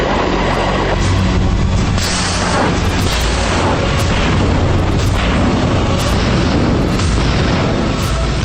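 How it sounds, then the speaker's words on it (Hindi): Missiles launched from ships during a Russian military exercise: a loud, continuous roaring rush with dense rumble and repeated booming bursts throughout, no speech. "जहाजों से मिसाइलें दागी जा रही हैं।"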